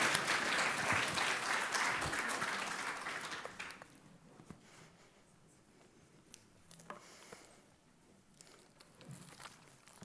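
Audience applause at a food and health summit, a dense burst of clapping for about four seconds that thins out to scattered claps and quiet room noise.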